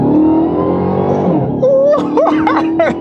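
A Dodge Charger or Challenger engine revving and dropping pitch through a downshift, loud and close, with a few quick rising blips near the end and a voice speaking briefly.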